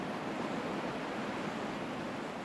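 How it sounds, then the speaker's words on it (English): Steady broadband wash of ocean waves and surf, a continuous soft roar with no distinct breaks, even in level throughout, with no voices. "the sea salt from the water, the ocean, and you hear those waves"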